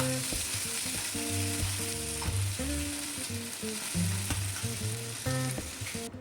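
Tomato pieces fry in a pan for a chutney, a continuous loud sizzle with occasional stirring scrapes, with music running underneath.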